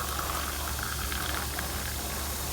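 Astonish cup cleaner fizzing vigorously in boiling water, a steady, even hiss of bubbling over a low hum that holds at the same level throughout, with no talking.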